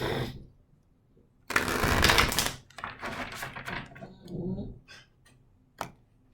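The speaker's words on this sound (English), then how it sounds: "Let's give it one more shuffle." Tarot cards are shuffled close up in a few quick riffling bursts, followed by softer shuffles and a final snap of the deck.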